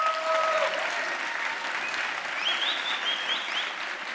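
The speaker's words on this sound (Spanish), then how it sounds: "pedir un aplauso para la mujer del tiempo" An audience at a science outreach event in Valladolid applauds, a steady wash of clapping from a sizeable crowd lasting about four seconds, with faint tonal sounds over it.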